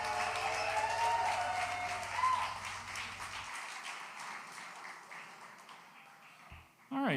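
Applause from a live crowd at an outdoor music event near WWDC, following a saxophone set, a fairly faint, scattered clapping that fades out midway under a lingering tone, ending in near quiet before a sudden sound at the close.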